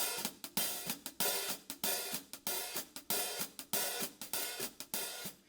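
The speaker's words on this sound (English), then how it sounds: "Sounds cheesy, sounds open on 1 and 3." Swung drumset hi-hat pattern opened on beats 1 and 3: sharp, close metallic hits alternate with longer washy open strokes that decay before the next beat, played alone in an even pulse.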